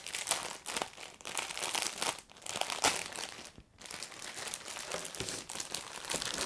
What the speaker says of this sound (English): So let's just pop the plastic off of here.